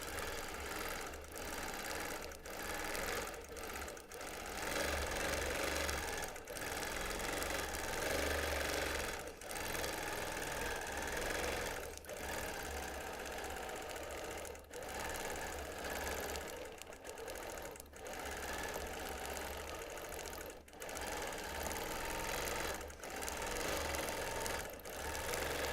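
A sewing machine quilting a quilt runs in a fast, steady mechanical chatter, close and fairly quiet, broken by brief pauses as the fabric is repositioned under the needle.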